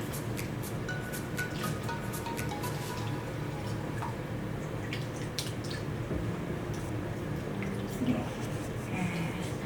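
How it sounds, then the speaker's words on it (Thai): Hands are rinsed under running tap water, making a steady splashing hiss with scattered drips and small splashes, while someone talks over it. "ล้างมือได้น้ำสะอาดนะจ๊ะ"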